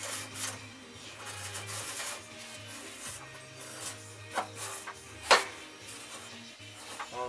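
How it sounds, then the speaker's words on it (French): A part of a Castel Garden mower is worked back into place, giving a continuous close scraping and rubbing with a low hum underneath, a few sharp clicks and knocks, and one louder metallic snap near the end. "Alors, le bruit de frottement c'est totalement normal."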